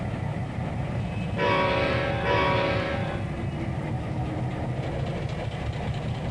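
Train in the Trainz 2022 rail simulator, a steady low engine rumble with a horn blast of about a second and a half sounding twice in the middle, fairly loud and without talk.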